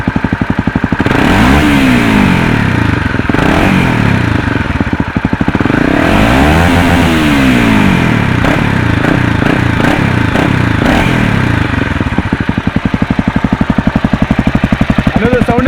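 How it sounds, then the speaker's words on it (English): Modified Honda CBR 250r motorcycle with a custom exhaust, loud and close, idling then revved up and down several times in sweeping rising and falling bursts before settling back to a rough idle. "I'll rev the bike for you."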